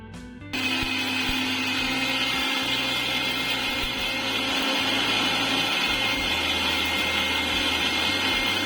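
A mixer grinder whirs loudly and steadily as it grinds roasted mustard seeds, fenugreek and cumin into powder, starting abruptly after a brief quiet moment and running continuously with a low, uneven motor hum.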